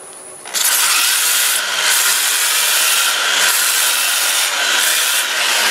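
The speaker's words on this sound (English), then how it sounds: "I want to sand this in reverse." Sandpaper pressed against a wood-turned piece spinning in reverse on a lathe, a loud, steady, close rushing hiss that starts abruptly and holds continuously with slight rhythmic swells, no voices.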